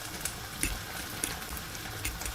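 Chicken and sweetcorn soup coming back to the boil in a pot, giving a faint, steady bubbling hiss with a few soft pops scattered through it, and no talking.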